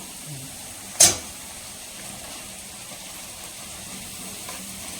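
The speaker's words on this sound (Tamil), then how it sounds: "கேபேஜையும் கிரீன் சில்லியும் வந்து சேர்த்துக்கிறேன்" Cabbage and green chilli frying in a pan for Hakka noodles give off a soft, steady sizzle, with a single brief clatter early on and no talking.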